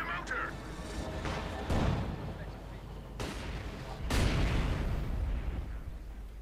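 Mortar, Panther tank and anti-tank gun fire in the battle game Company of Heroes 2, heard as several heavy booms and rumbling impacts over a steady low background.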